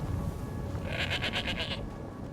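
Goat in Skyrim giving a single wavering bleat, a rapid pulsed call lasting about a second, heard fairly close over steady ambient game background.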